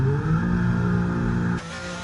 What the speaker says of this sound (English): There goes an Alfa Romeo and a McLaren